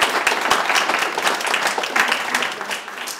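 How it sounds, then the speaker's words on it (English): Audience at a film awards ceremony in Monaco breaks into steady applause, dense overlapping clapping that stays loud and even throughout with no talk over it. "So please give them a round of applause."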